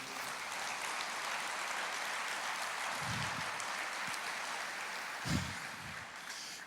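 A church congregation applauds, a broad, steady wash of clapping that runs throughout and swells briefly near the end.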